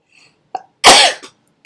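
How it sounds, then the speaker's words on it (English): A single loud, close sneeze bursts out after a brief intake of breath, followed by a short exhale, with silence around it. "I feel a sneeze coming"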